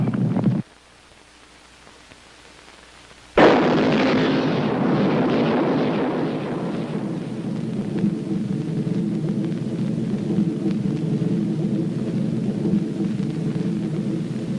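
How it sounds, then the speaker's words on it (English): An antimatter bomb detonates in a 1978 sci-fi film: a sudden massive blast bursts in after a quiet lull, then rolls on as a long, loud, rumbling roar. "The United States decided to use its new antimatter bomb."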